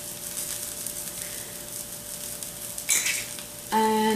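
TVP stir frying with pink Himalayan salt and black pepper for vegan lettuce wraps, a steady hissing sizzle throughout, with a brief stirring scrape near the end and a sharper pan clatter as it finishes.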